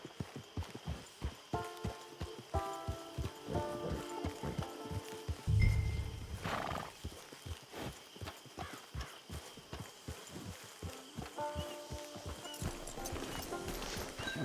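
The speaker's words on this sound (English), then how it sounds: "Get your horse." Horse hooves clip-clop in a steady walking rhythm throughout the camp scene of the Red Dead Online video game, with a brief whinny or snort partway through and faint background ambience.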